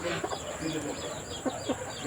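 Broody hen with newly hatched white, fluffy chicks, giving short soft clucks and chirps at close range over a steady background hiss.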